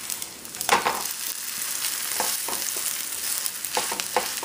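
Leftover lentil mixture stirred in a pan with spices and dried coriander, a spatula scraping in a few soft, irregular strokes over a quiet background sizzle, close and moderately loud with no talking.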